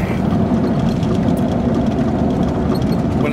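A 1985 Chevy K1500 pickup truck engine runs with a loud, steady low rumble heard close up, unbroken for the whole stretch.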